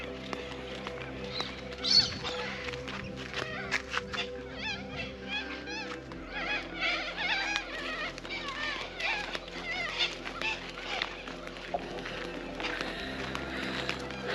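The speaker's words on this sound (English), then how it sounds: "You can hear all the galahs, or parrots, or whatever they are." Many galahs squawk and chatter at a distance, a busy outdoor chorus of parrot calls mixed with occasional voices, near Exmouth Gulf.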